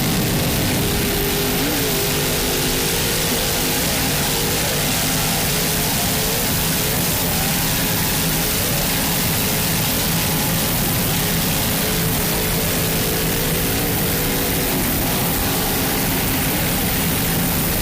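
Superclass offshore racing powerboats with Sterling engines and Mercury drives race into Key West Harbor, producing a loud, unbroken engine roar mixed with wind and water rush that stays steady throughout.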